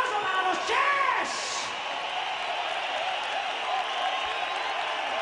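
Concert crowd at a rock show cheering and applauding Argentine fans, a dense roar of claps and yells throughout with an announcer's voice over it.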